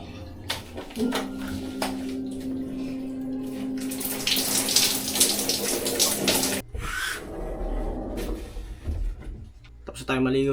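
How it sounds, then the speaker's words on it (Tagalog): Water runs steadily from a tap to fill for a bath, a loud gushing splash that swells in the middle and then cuts off, with a voice faintly present around it. "Tapos tayo maligo guys"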